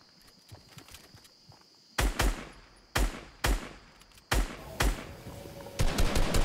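Combat shotgun blasts in a Fortnite match: a run of loud, sharp booming shots spaced about a second apart, close and punchy, with quieter footsteps and game ambience between them.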